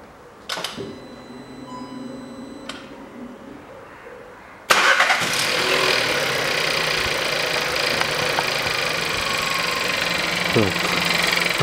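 A 2013 Skoda Octavia 1.2 turbo petrol engine is cranked and fires up after a coolant refill, jumping abruptly from a quiet garage background to a loud, steady idle that carries on to the end.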